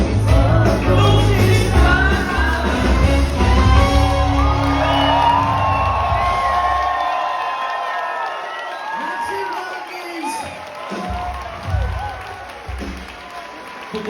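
An audience in Latvia applauds and cheers for a comedian after he sings in Latvian, the clapping loud and dense at first, then thinning to scattered claps with whoops and shouts.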